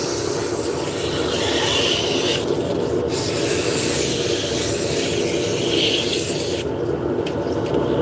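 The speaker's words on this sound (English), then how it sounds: "So I start with a medium grit and then go to a fine grit. The sandpaper is almost toast." Loud, continuous rasping of worn sandpaper, first medium then fine grit, rubbing steadily on a workpiece in long even strokes, close up, with no voice.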